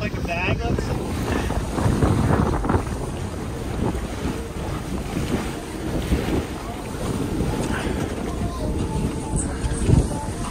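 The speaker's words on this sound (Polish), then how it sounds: "Nic się nie dało kręcić, bo tak woda chlapała." Strong wind buffets the microphone while water splashes and churns continuously in Antarctica, stepping off a ship, with a brief louder splash near the end.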